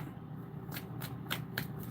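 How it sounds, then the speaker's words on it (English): Tarot cards being shuffled by hand, a close riffle followed by several sharp slaps and flicks of the deck, loud and alone with no talk. "I'm just going to keep shuffling because I don't like how the cards just exploded across it"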